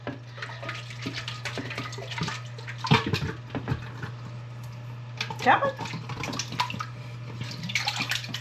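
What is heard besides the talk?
whey draining from goat's milk yogurt through butter muslin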